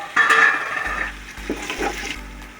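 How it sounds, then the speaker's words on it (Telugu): Ginger garlic paste fries and is stirred in a pan, giving a close, steady sizzle with occasional scraping and clinking, and no voices. "జింజర్ గార్లిక్ పేస్ట్ పచ్చి వాసన పోవాలి, అప్పటి వరకు ఫ్రై చేసుకోవాలి బాగా"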